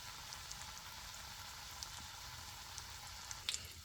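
A pancake sizzles in a pan of bacon grease and butter, a faint, steady hiss with scattered soft crackles and a few sharper pops near the end.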